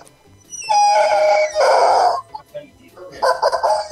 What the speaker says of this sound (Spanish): Estáis tirando el cogote a la gallina.